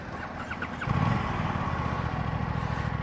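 An Aprilia RS 457 parallel-twin DOHC motorcycle engine catches after a short crank and settles into a steady, throbbing idle nearby.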